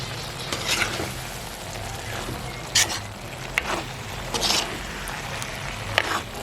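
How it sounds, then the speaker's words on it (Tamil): Cauliflower and potato being turned over in a pan after a splash of milk, making a soft wet sizzle with a few sharper scraping stirs, close and fairly quiet, no speech. "இனி நாங்கள் பால் கொஞ்சம் விட்டுட்டு அப்படியே பிரட்டி இறக்க போகிறோம்."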